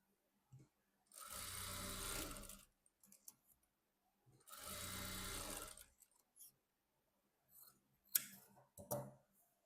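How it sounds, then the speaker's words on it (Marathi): Sewing machine stitching a frill-sleeve blouse, two sustained runs of rapid mechanical whirring with short pauses between, then brief clicks and taps of handling fabric, close and clear in a quiet room. "त्यानंतर हा पार्ट जो आहे तो ह्या पार्ट वरती ठेवायचा आहे व फोल्ड करून टीप मारायची आहे."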